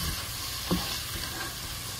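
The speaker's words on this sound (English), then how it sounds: "So we'll just kind of let that simmer a little bit." Food cooking in a pan on the stove, a soft continuous sizzle heard close and fairly quiet, with one small utensil tap partway through.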